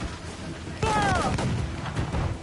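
Ship cannons in Assassin's Creed 4 boom out in a heavy volley on a naval battlefield, one loud blast followed by scattered further shots and rumble, with shouting crew voices.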